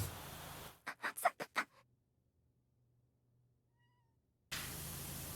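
A cat meows in a run of about five short, quick calls close by, then falls silent before steady background noise resumes.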